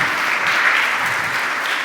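A church congregation applauding during a Christian sermon, with a thick, even wash of clapping from many hands at a steady, loud level.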